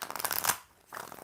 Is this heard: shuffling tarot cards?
yes